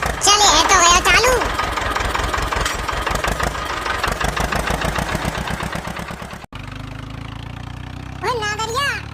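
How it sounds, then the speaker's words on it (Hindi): A tractor engine runs at a steady, pulsing idle during a wheat harvest, loud and close, while voices talk and sing over it. "अरे 200 की रफ्तार चला दूं ट्रैक्टर को"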